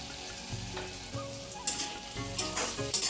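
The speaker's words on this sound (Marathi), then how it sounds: "आता मिरची टाकू, म्हणजे मिरची पण त्या कांद्यासोबत चांगली भाजली जाईल थोडीशी" Green chillies dropped into hot oil with frying onion in a pan for a Satara-style dried fish dish, a steady crackling sizzle broken by sharper bursts and scraping stirs.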